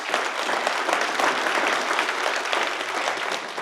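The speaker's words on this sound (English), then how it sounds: "Let's give them a round of applause." An audience applauds steadily at a veterans' salute event, a dense, continuous wash of many hands clapping close by at even loudness throughout.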